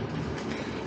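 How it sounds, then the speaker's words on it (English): Model railway train running along freshly soldered track, a brief, close, continuous rolling rumble with faint clicking of wheels over rail joints. "Right, let's run a train and see if that's any better."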